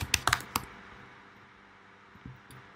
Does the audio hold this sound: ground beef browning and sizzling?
no